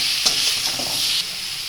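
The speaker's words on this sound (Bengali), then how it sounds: "চাটনিটাকে ভালো করে করতে হবে দেখো করে কষাতে হবে" Mango chutney sizzles in a pan as it is stir-fried, with a steady hiss and a couple of soft scraping stirs.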